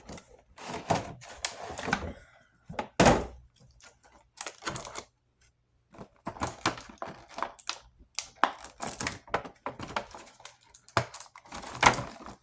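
Plastic and cardboard collector-edition packaging of a McFarlane Deathstroke action figure is pried open, with irregular close crinkles, crunches and clicks in bursts separated by short pauses, no talk.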